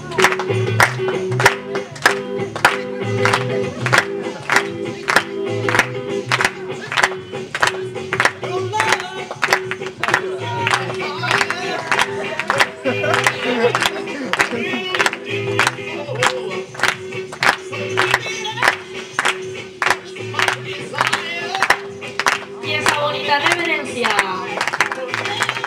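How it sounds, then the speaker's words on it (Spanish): Audience at a Río Safari show clapping in steady rhythmic unison, loud and sustained for over twenty seconds, with crowd voices and a presenter talking over it. "Unas palmas."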